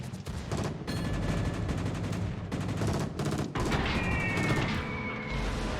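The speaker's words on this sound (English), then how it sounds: "Maybe I can get through these flak bursts without losing all my ships." Anti-aircraft flak bursts crackle in a naval battle video game, with dense rapid popping and thudding volleys that pause briefly and resume, loud and continuous, joined later by whining tones.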